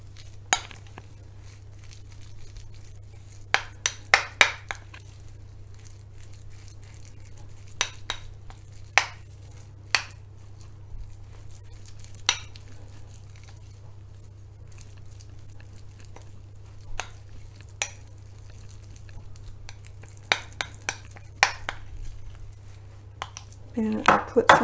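A utensil stirs sauce in a bowl, giving irregular clinks and taps at close range over a low steady hum, in scattered bursts.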